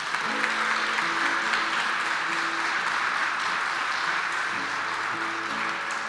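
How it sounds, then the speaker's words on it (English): Audience applause at a live song performance, a dense continuous wash of clapping that holds steady throughout, with a faint sustained tone under it. "So give her a round of applause before."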